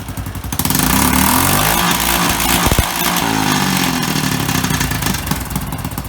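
Honda motorcycle engine held steady at a 5,000 rpm rev limit set by its ECU, a loud, close, continuous drone with a slight warble after a brief rise at the start, no talking.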